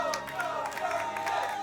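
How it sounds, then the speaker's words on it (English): Crowd at an LCS League of Legends esports match clapping and cheering for Golden Guardians, a steady wash of applause sitting under casters talking over it. "The crowd giving some love to Golden Guardians."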